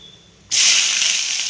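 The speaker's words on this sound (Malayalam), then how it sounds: "എന്താ കടുക് പൊട്ടിക്കൊണ്ടിരിക്കുകയാണ്." Mustard seeds hit hot oil in a home kitchen pan and set off a sudden loud hiss that stays strong and steady after the abrupt start.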